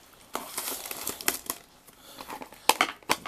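Plastic wrapping on a hockey card blaster box crinkles and crackles in irregular bursts, close up, with sharper crunches near the end and no talking.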